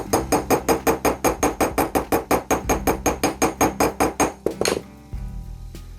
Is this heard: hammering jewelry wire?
yes